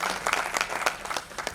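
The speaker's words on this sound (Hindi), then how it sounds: "हम चाहेंगे एक बार ताली बजा के आप लोग अपना अपना स्वागत कर लें" Audience applause in welcome at a national party convention in Mumbai, a dense steady clapping crowd with no talk, sustained throughout.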